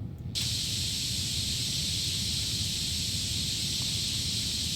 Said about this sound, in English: Hold left click to spray the paint.